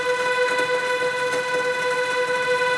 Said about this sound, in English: our new kettle that comes with a whistle, it's more of a old traditional factory gate alarm.